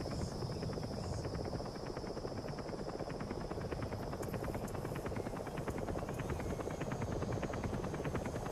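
Support helicopter from Metal Gear Solid V arriving, a steady broadband rotor drone with rapid chopping pulses that stays loud and constant throughout, a faint high whine riding on top.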